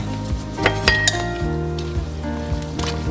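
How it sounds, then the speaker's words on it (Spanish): Beef sizzles in a pot for a pot roast, a steady frying hiss under sharp clinks of metal utensils against the pot, close and fairly loud. "voy a poner la carne nuevamente ahí para cocinar esta carne por 2 horas"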